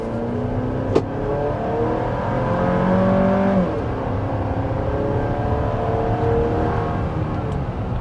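A Chevy Traverse RS SUV accelerates to highway speed, heard from inside the cabin as a steady engine drone with a rising pitch that drops once at a shift, under constant road and wind noise.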